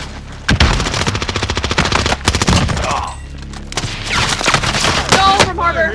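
Rapid automatic gunfire rattles in dense bursts during a Call of Duty: Modern Warfare match, loud and close, followed by scattered shots, booms and distant firing as the battle continues.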